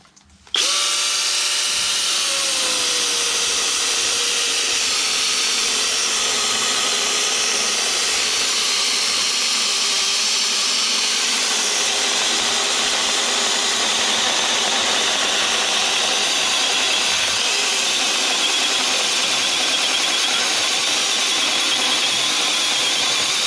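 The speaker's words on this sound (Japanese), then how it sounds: "これをね、ちょっと試しにハンディチェーンソーだけでね、ちょっと切ってみます" A handheld electric chainsaw cuts through a 12 cm log of hard cherry firewood, a loud continuous high motor whine that starts abruptly and holds steady throughout, close by with no talking.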